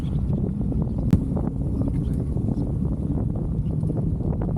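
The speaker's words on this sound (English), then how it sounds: "I can't even move with this wind." Strong coastal wind of about 35 mph roars across the microphone in a dense, steady rush, with one brief knock partway through.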